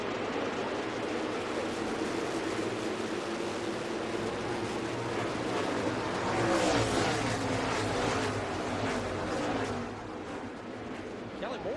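NASCAR Busch North Series race cars roar together at Dover at a race start, a dense engine rumble that swells as the pack passes, with a commentator talking over it.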